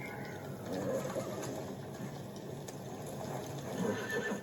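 Horses neighing and whinnying as they spook in a fantasy TV drama, with hoof clops and scattered bird calls, moderately distant and without speech.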